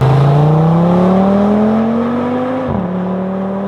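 An Audi five-cylinder car engine revs loudly with a rising whine, holds high, then drops sharply as the throttle lifts, alone and close.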